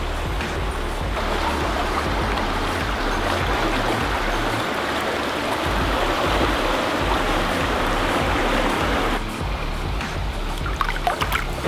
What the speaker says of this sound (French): La Socha, c'est la rivière bleue, surnommée aussi la rivière Émeraude.